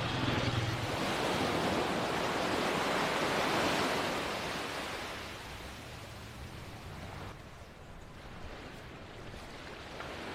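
Surf on St. Jean Beach, St. Barts, rolls in as a broad, steady roar of breaking waves, loud and close at first and then easing slightly, with no voices over it.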